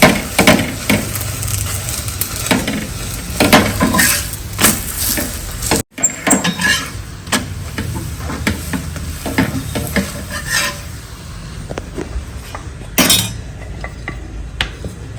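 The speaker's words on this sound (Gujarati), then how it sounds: "એટલું આપણે શેકી લેવાનું છે અને ચમચીથી ફાવે તો ચમચીથી પણ તેલ નાખવાનું" Methi thepla roasts in oil on a hot griddle, sizzling continuously up close while a spoon scrapes and clinks against the pan, with brief pauses and oil being added.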